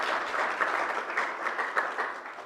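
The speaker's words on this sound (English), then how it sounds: "I think you can have a round of applause for the panelists" Audience at an artificial intelligence conference in Africa gives the panelists a round of applause: sustained, dense clapping from many hands, steady and fairly loud throughout with slight swells, no voices over it.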